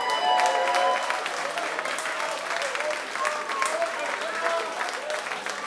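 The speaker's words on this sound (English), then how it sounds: "I think we should give a special round of applause to Sean in the corner." Folk club audience at a reunion concert breaking into warm, sustained applause, dense clapping that swells at first and then holds steady, close and fairly loud.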